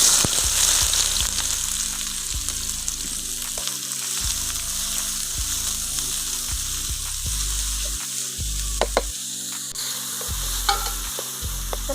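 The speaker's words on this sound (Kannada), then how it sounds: "ಎಣ್ಣೆ ಕಾದಿದೆ. ಈರುಳ್ಳಿ ಹಾಕ್ತಾಯಿದ್ದೀನಿ." Onions hit hot oil in a pan for egg bhurji and sizzle steadily, with a bright continuous hiss and occasional stirring scrapes throughout, no voices over it.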